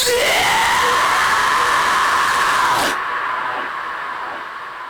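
Sustained vocal scream in a metal mix, drenched in heavy wet reverb and echo, loud and close, holding a rising pitch before cutting off into a fading reverb tail.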